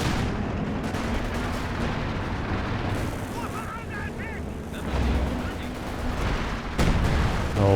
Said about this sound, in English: counter barrage finally gets the mortar team there for the hooligan. Oh man, that's what I was talking about. Direct hit